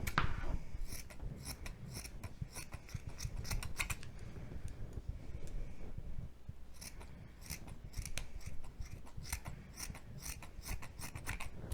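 Scissors snip through fabric while cutting out a sleeve piece for a boy doll's hoodie, a steady run of close, crisp blade strokes with brief pauses and no talk.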